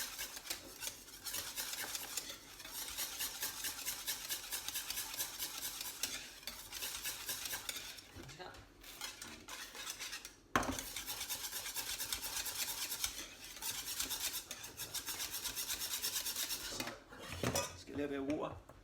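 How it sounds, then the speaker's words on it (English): A whisk scrapes and clatters steadily around a pot of thick mushroom soup being thinned with vegetable stock, a continuous close metallic stirring with brief pauses and a few louder knocks against the pot. "Get the whisk going."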